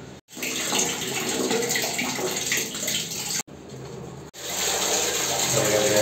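Tap water runs steadily into a sink during tooth brushing at home, a continuous close splashing hiss broken by two brief silent cuts, with no talk.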